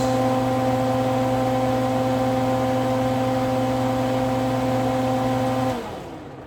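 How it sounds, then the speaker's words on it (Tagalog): A kitchen exhaust fan runs loud and close with a steady tonal hum, then switches off near the end and winds down to quiet room tone. "Tanggalin na exhaust. Sorry about the noise."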